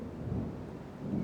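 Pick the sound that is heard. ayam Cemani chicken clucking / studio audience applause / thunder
thunder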